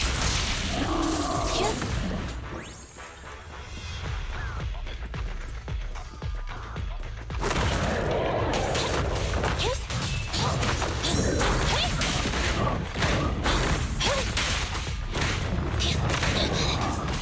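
Combat in the video game Zenless Zone Zero, with rapid bursts of gunfire, crashes, thuds and whooshing impacts that run loud and nearly nonstop, and voices and music mixed in.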